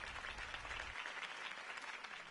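A crowd in a video game claps after Harvey Dent's campaign speech: brief, fairly faint applause that forms a dense, even patter of many hands for about two seconds.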